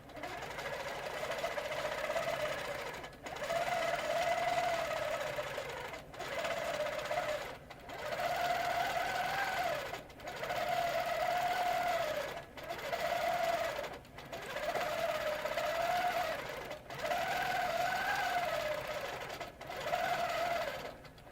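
A longarm quilting machine stitches a 1-inch grid on a clamshell quilt, its steady mechanical hum running in repeated bursts of about two seconds, each separated by a brief pause.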